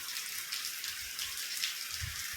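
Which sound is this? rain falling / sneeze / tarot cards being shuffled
rain falling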